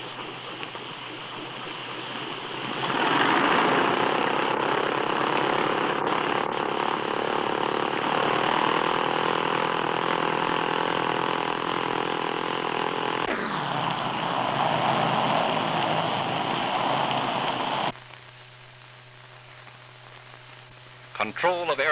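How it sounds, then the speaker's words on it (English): A droning propeller airliner engine roars steadily as the plane taxis to the passenger gate, rising as it nears, then cuts to a quieter hum near the end. "the plane moves up to the passenger gate."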